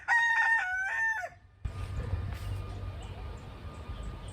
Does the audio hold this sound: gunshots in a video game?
no